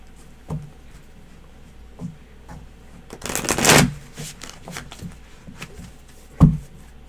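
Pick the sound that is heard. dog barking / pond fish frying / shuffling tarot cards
shuffling tarot cards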